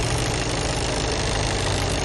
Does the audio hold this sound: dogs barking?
no